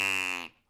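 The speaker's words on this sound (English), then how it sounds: "This is the sound of the duck call." A duck call gives a short, bright, buzzing reed tone, raw and steady for about half a second before it cuts off abruptly, heard alone and close.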